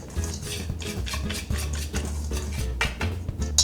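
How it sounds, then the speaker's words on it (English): Oat flour and baking powder whisked together in a bowl for almond biscotti make a quick, steady scraping and tapping of metal against the bowl, repeating rhythmically up close with no talking. "I just want to whisk them together so that they're well mixed"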